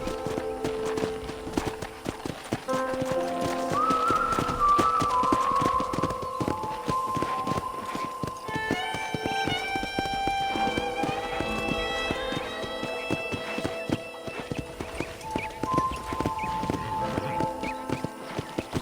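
Rhythmic horse hoofbeats clip-clop steadily beneath a melodic musical score in Red Dead Redemption, the steps repeating evenly throughout at moderate loudness.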